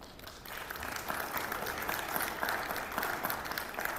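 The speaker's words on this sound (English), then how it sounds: "So if you'll join me in a round of applause," An audience gives a sustained round of applause for a panel of speakers at a faith discussion session, dense steady clapping from many hands filling the room, with no talk over it.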